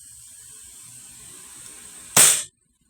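KJW KP07 CO2 airgun fired once after a quiet hiss of background, a single sharp, close pneumatic crack lasting a fraction of a second, then silence.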